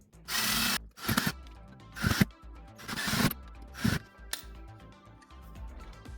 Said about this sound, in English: what I'm going to do is just screw this into the wood. So I'm going to drill it out first